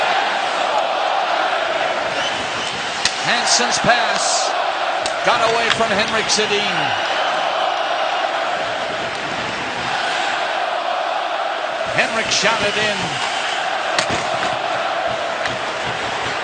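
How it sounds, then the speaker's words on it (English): A packed arena crowd at an NHL game between the Edmonton Oilers and Vancouver Canucks roars steadily, with thuds and stick clatter from the ice, while a commentator talks over the noise. "The crowd wanting to roar some more."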